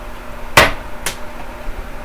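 A hammer strikes a glued test joint to break it apart, giving two sharp, loud impacts about half a second apart with a brief ring, then quiet.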